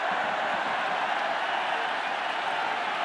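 A rugby crowd at the Perpignan versus Racing 92 Top 14 match roars in a steady, loud, continuous wash of cheering and applause filling the stadium, with no pause across the stretch.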